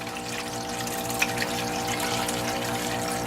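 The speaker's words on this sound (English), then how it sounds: "drop it in and just gradually let it fall through without trying to disrupt the water flow" Continuous water flow through a gold sluice as material is spooned in, a steady rushing trickle with a faint hum underneath and one small splash partway through.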